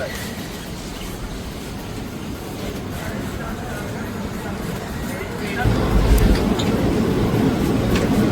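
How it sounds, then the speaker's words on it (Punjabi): Ekta Express passenger train rolling out of Chandigarh junction toward Kalka, a steady low rumble and rattle heard from inside the coach that grows louder and heavier partway through, with faint background voices. "ਚੰਡੀਗੜ੍ਹ ਰੇਲਵੇ ਸਟੇਸ਼ਨ ਜੰਕਸ਼ਨ ਤੋਂ ਆਪਣੀ ਟ੍ਰੇਨ ਜਿਹੜੀ ਚੱਲ ਪਈ ਹੈ ਔਨ ਟਾਈਮ"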